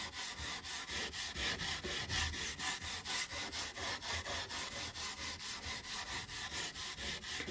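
Hand rubbing along the grain of a wooden board while stripping old wax finish from furniture: steady, close back-and-forth scraping strokes in an even rhythm, roughly two per second, with no voices.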